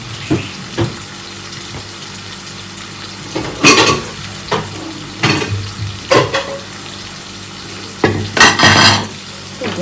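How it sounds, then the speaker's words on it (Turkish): Onions frying in a pan while being stirred, a soft continuous sizzle broken by several louder scraping and clattering strokes of a utensil against the pan, close and fairly loud. "Soğanlar güzelce kavrulsun."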